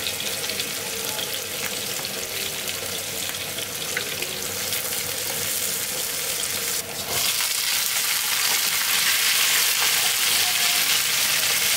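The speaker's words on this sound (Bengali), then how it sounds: "এবার হচ্ছে মিষ্টি কুমড়া ভাজি করব" Sweet pumpkin frying with onion, green chilli, dried chilli and panch phoron, a steady close hiss of sizzling oil that runs throughout, rising slightly louder in the second half, with no talking.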